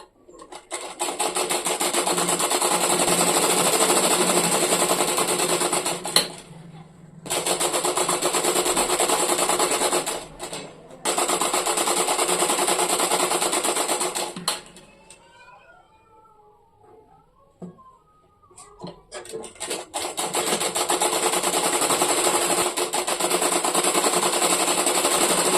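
A sewing machine runs a line of stitching along the lining edge of a blouse in long, loud, close bursts, stopping twice briefly and once for a longer pause filled with faint fabric handling before resuming.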